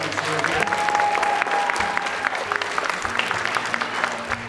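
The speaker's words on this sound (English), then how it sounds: "So let's give a loud round of applause for all the advisors who are here." A loud round of applause from a middle-level leaders conference audience honors the advisors, steady dense clapping filling the room from start to finish.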